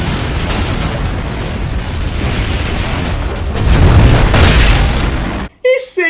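A loud, sustained explosion from the film Derailed roars with a deep rumbling blast that swells midway, then cuts abruptly to near silence, with brief sounds following.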